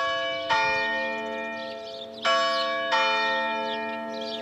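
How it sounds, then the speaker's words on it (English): Church bells ring from the steeple of an 1880s church, with three loud, resonant strikes whose long ringing tones overlap and slowly fade between hits. "the bells that chime are what people have been listening to here for years"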